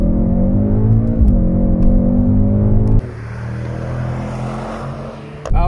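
Mercedes-AMG car on a racetrack warm-up lap, a steady loud engine drone with rich low harmonics, the tone dropping to a rougher, quieter rumble midway through the run.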